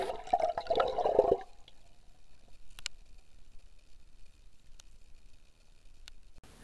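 Concentrated 39% hydrogen peroxide poured into a backyard pool, a loud liquid splash and gurgle lasting about a second and a half, then near silence with a few faint clicks.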